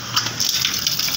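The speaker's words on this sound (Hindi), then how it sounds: "मैं इसको जाते हुए पानी भी लगा जाता हूँ।" Water gushes steadily from a pipe or vessel onto a tomato plant outdoors, a close, continuous splashing pour with no voices.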